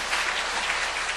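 A church congregation claps together in a steady, dense burst of applause that lasts about a second, with no voices over it.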